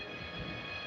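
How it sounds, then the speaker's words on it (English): A train rolling on its rails with a steady broadband rumble and faint high metallic tones, continuous and fairly quiet, with no voices over it. "The train started moving forward and headed for the tunnel."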